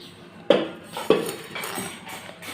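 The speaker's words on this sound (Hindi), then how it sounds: "बर्तन उठा के दे रहा है, तो हम बर्तन रख देते हैं।" Metal kitchen utensils and pots being picked up and put away: two sharp metallic clanks followed by lighter clinks and rattling, close by, with no talking.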